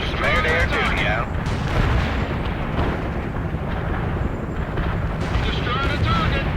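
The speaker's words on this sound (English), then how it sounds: "Fire mission received. Artillery barrage inbound." Dense, continuous rumble of an artillery barrage in the World in Conflict video game, booms and blasts rolling together at steady loudness, with radio-style voices talking over it at the start and end.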